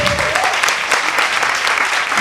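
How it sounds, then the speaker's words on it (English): Audience at a ball applauding, a dense, loud, continuous wash of clapping that holds steady throughout. "Give me a warm applause"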